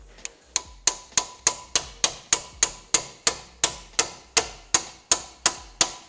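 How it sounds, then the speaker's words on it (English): Hammer blows on a tight-fitting part of an Alfa Romeo MiTo QV MultiAir engine, about twenty sharp metallic strikes in a steady even rhythm, close and loud with a short ring after each hit. "I'll need a hammer."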